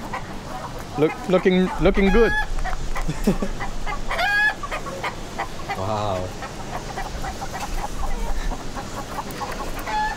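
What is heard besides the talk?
chickens clucking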